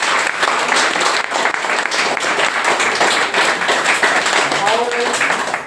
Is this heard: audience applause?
yes